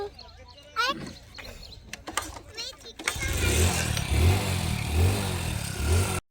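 A motorcycle starts up partway through and then runs with a steady close engine drone and rhythmic low thumps as riders head out on a short nearby trip; people talk beforehand and over the start.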